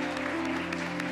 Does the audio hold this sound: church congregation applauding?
yes